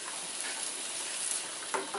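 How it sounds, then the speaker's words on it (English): Pad Thai noodles and tofu stirred in a hot pan on high heat, a steady bright sizzle and frying hiss with soft scraping and stirring movements throughout, close and continuous. "Now I'm gonna stir it."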